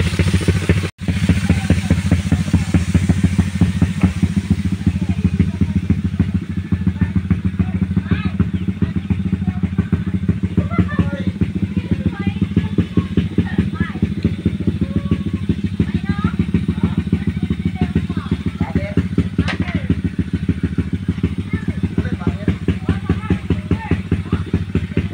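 A motorcycle engine idles with a rapid, even clatter, staying close and steady for the whole stretch, with occasional slight revs; no one speaks over it.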